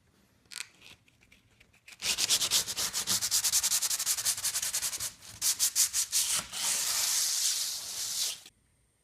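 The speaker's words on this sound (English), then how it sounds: "I'm going to use sandpaper here that looks like it's a 60 grit" Fiberglass is sanded by hand with 60 grit sandpaper in close, loud, rhythmic rasping strokes, starting with a few scattered scrapes and then running as a fast, steady back-and-forth for several seconds.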